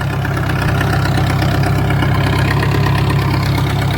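A tractor engine runs steadily while spraying a wheat field, its low, continuous drone holding at an even, loud level for the whole stretch without any talk.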